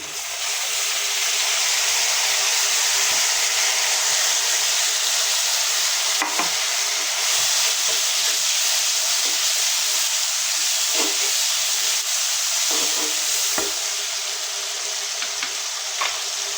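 Cumin and garlic paste frying in hot oil for a Bengali katla fish curry with cauliflower, tomato and potato, a steady loud sizzle and hiss with occasional stirring clinks, no talking.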